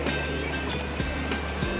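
Strong water gushing from a natural spring, a steady loud rushing wash that runs the whole time with a few brief splashy bursts on top, close by.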